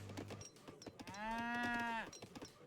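Cows in the Age of Empires video game let out a single long, low moo lasting about a second, heard clearly over soft clicking game sounds.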